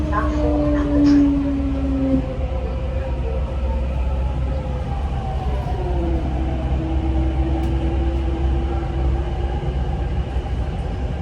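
A Delhi Metro train travels between Dwarka Sector 12 and Rajiv Chowk, heard from inside the car as a constant low rumble with rising and falling tonal whines from the motors.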